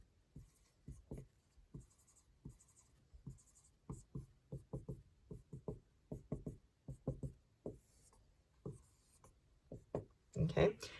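A chemistry diagram drawn by hand on a board or paper, many short scratchy strokes in an uneven rhythm, close and fairly faint, with a voice talking over parts of it.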